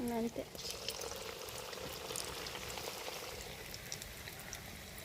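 Chicken with onion, green chilli and curry leaves simmering in a pan gives a soft, steady bubbling and popping that stays faint and even throughout, with a brief louder sound at the start.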